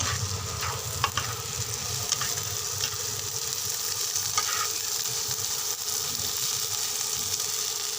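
Dried chapa shutki fish fries with onions in a pan, a continuous close sizzle broken by the scrape and clack of a spatula as it is stirred, with no talk.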